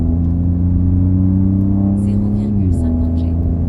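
Car engine and exhaust on a race track, heard from inside: a loud, steady drone with a sustained engine tone that drops in pitch near the end, plus crackling pops from the exhaust.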